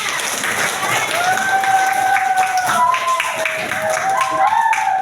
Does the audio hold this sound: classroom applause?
yes